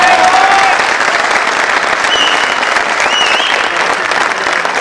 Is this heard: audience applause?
yes